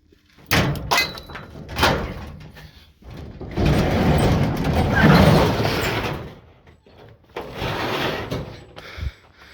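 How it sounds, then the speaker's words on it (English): A garage door on a workshop housing a 1945 Jaguar Mark IV is hauled open by hand, giving several loud rattling, scraping bursts with thuds between them and a long rumbling slide in the middle. "I forgot to open the door"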